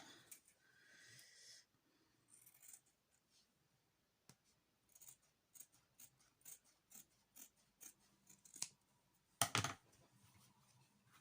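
Scissors snip through material for a stamp-cleaning mat in a quiet room, a series of short, close, crisp cuts in an uneven rhythm with pauses between them, one louder snip near the end.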